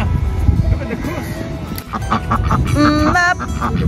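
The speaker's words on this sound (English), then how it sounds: "Look at the goose, Rafa" A goose at a park gives a few short, harsh honks amid voices and low background noise just before rain, with people talking throughout.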